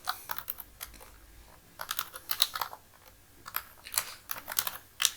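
Typing on a computer keyboard, quick clusters of soft key clicks in short bursts with brief pauses, fairly close and moderately quiet, with no talking.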